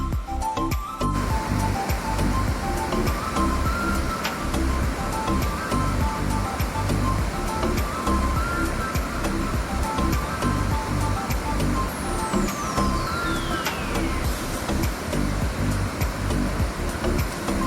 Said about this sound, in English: Pretty good waterfall flow there coming off that area.